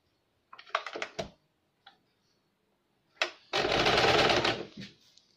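Sewing machine stitching a 1.5-inch waistband onto a blouse: short bursts of rapid mechanical clatter early on, a brief click, then a longer loud run of fast stitching, close up with no talk.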